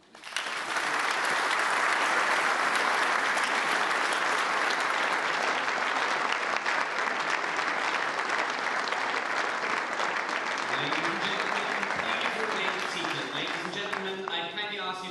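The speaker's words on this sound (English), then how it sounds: "Let's offer a round of applause." Sustained, loud applause from a large audience in a conference hall at the Munich Security Conference, steady clapping filling the room for the full duration, with a faint voice near the end.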